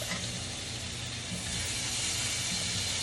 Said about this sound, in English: now I am adding the shrimp to the sauce